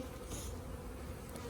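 Honey bees swarming around an Apimaye hive during the installation of a package of bees, a dense, continuous, close buzzing hum with no break, alone without voices.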